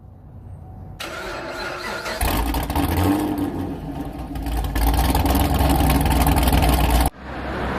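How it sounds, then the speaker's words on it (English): A V8 muscle car engine cranks and catches, then settles into a deep, loud rumbling growl that swells with revs before cutting off abruptly. "Add in that raw V8 growl and low-end torque"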